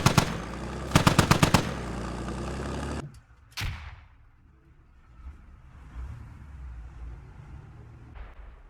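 Gunfire exchange in the video game Squad: a rapid burst of automatic fire opens loudly, a single sharp shot follows, then quieter distant rumble and faint shots fade into near silence.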